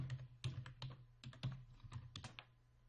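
Typing on a computer keyboard while entering a localhost address into a web browser, a quick irregular run of close, crisp key clicks with short pauses over a low steady hum, no talking.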